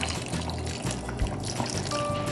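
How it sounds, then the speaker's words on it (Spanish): A splash of wine is poured into rice cooking with chicken, a soft, close liquid trickle and light sizzling bubbling running steadily, with no talk. "Le vamos a agregar un chorrito de vino, aproximadamente media tacita."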